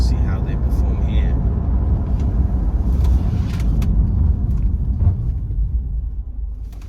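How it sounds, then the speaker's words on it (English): A 2014 Land Rover Range Rover Evoque 2.2L SD4 brakes from 60 mph with the ABS engaging, heard as a loud low road and engine rumble that slowly fades as the car sheds speed. "let's get to 60 miles an hour, and let's test those brakes to see how they perform here"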